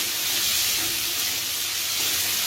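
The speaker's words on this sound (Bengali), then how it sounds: "মশলা সবজিগুলো ভালো করে একটু ভেজে নিলে" Mixed vegetables with spices frying alongside pumpkin and bottle gourd leaves, a steady close-up sizzle and hiss that stays loud and even throughout with no talking.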